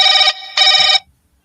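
Ringback tone of an outgoing telephone call: two loud, close electronic ring bursts separated by a short gap, then silence.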